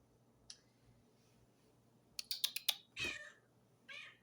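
A domestic cat meows close by, two drawn-out calls following a burst of quick clicking taps and a faint short sound earlier, in an otherwise quiet kitchen.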